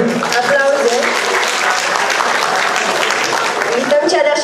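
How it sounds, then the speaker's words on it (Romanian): An audience at a school freshman ball claps steadily and warmly throughout for a couple on stage, with some voices and cheers mixed into the applause. "Aplauze pentru acea pereche."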